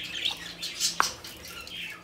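Pet birds kept as breeding pairs squawk and chirp nearby, with one sharp loud squawk standing out among softer calls and rustling.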